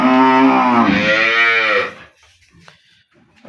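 A dairy cow gives one long, loud, close moo lasting about two seconds, followed by quiet farm background with faint knocks.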